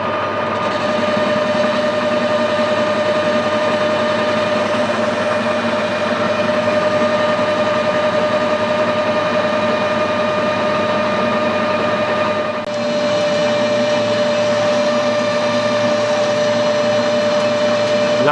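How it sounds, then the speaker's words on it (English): A metal lathe cuts steadily in a workshop, a loud continuous machine drone with a constant whining tone, briefly dipping once before carrying on unbroken. "You can hear the lathe working there, really is grafting."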